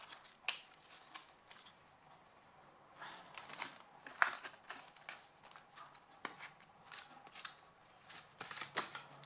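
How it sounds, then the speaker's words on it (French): Oracle cards being shuffled by hand, a quiet close series of soft riffling and flicking bursts in an irregular rhythm, with no talk. "Donc, je vais battre les cartes."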